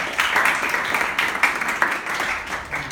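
A class of students applauds a presenting group, with a brisk, uneven wash of many hands clapping at moderate volume throughout the three seconds and no talking.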